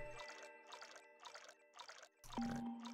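Water effect from the game Yume Nikki, a series of soft, evenly spaced watery pulses repeating about five times, fairly quiet with no talking.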